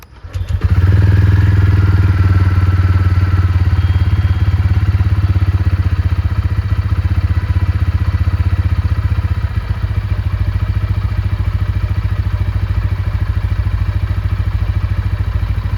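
A TVS Ronin motorcycle engine starts up and settles into a loud, steady idle with a rapid throbbing beat that continues throughout.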